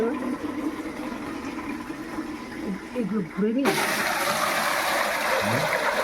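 Running water pours and splashes while dishes are washed at home, a steady wash that grows louder and brighter midway, with people talking in the background.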